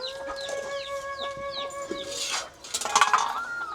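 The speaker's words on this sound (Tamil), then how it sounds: "இது வீட்டுக்கு பின்னாடி கோழி குடாப்பு அப்புறம் கோழி" Hens cluck in short repeated calls nearby in a coop behind a house, with a steady tonal hum in the background and a louder burst of squawking toward the end.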